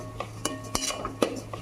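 Mango ladoo mixture is stirred in a pan, a spoon scraping and knocking against the metal in a loose, repeated rhythm over a low background hum.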